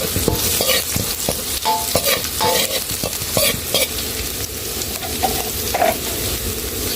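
Chili and shallots stir-frying in a hot pan for a Thai beef basil stir-fry, with a steady loud sizzle and repeated scraping knocks of the spatula throughout, no voices.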